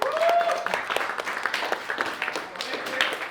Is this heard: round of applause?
yes